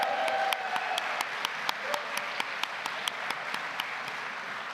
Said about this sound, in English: So we'd like to hear the loudest cheers and claps and squeals and whistles